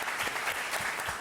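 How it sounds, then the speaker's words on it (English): A conference audience gives a burst of close, dense applause with many hands clapping together at an even volume throughout. "Could we have a big round of applause for Dr. Kiran Bedi?"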